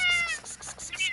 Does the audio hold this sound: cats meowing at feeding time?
yes